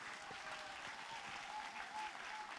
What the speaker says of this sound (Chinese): 我们再次给舒玛丽合唱团一个掌声